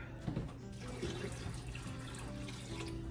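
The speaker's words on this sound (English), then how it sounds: "And I am putting hot water in" Water runs steadily from a tap into a sink, a continuous splashing stream with faint drips and clinks, close by.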